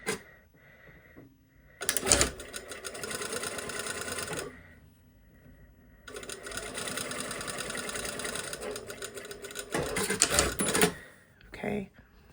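A sewing machine stitches a single welt pocket at a normal stitch length just over 2, running in two long bursts of steady whirring separated by a pause, with a few short clicks and handling noises around them.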